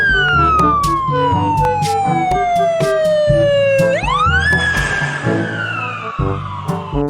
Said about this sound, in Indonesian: ada mobil ambulan juga